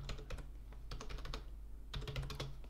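Keys clatter on a computer keyboard in quick bursts of typing, close and crisp, with a brief pause midway before another run of keystrokes; no one speaks.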